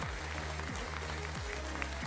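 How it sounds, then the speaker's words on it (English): Audience applause after the grand final of the COE x Yuki Aim 1v1 tournament, a steady wash of clapping over a loud, stepping bass-heavy music track. "Round of applause to MALISZEWSKI."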